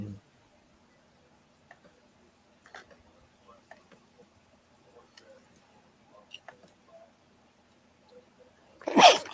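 A single sharp sneeze bursts out loud and close at the very end, after near silence broken only by faint ticks and small clicks.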